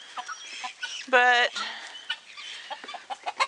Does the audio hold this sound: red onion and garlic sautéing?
no